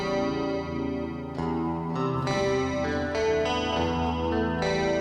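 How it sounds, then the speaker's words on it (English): A sustained tonal sound, likely a vocal, washed in echoing repeats and a long reverberant tail, layered and smeared as the delayed signal blooms into reverb from a Savant Audio IM90 plugin recreating the 80s Publison Infernal Machine. "Send the vocal to a delay, then send the delay into a reverb."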